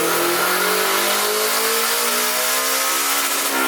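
Turbocharged Honda S2000 on a dyno at about 8 psi of boost, the engine revving hard toward 9,000 RPM in one continuous, loud, rising sweep with a steadily climbing pitch.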